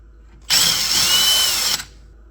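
Power drill boring a hole through a metal skid plate for a 1964–1972 GM A-body car, one steady high whine lasting just over a second, close and loud, starting and stopping abruptly.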